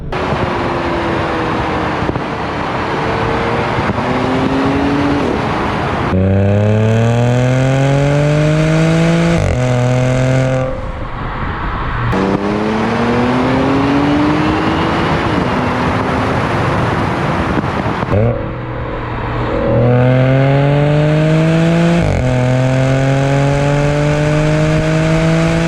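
Tuned 2012 Audi B8 S4 with ECU and transmission tuning, driving and accelerating hard through repeated gear pulls, its engine note climbing steadily and dropping at each shift, loud and close throughout.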